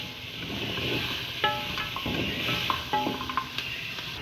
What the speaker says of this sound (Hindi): घी डालेंगे और इसके अंदर फिर चिकन डाल देंगे और इसको अच्छी तरह भूनेंगे।